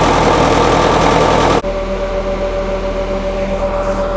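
International Harvester UD9 diesel generator set running at half load as it warms up, a steady loud engine drone with a constant hum; an abrupt drop in level partway through leaves a quieter, even mechanical hum.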